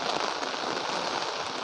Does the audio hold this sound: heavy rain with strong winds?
yes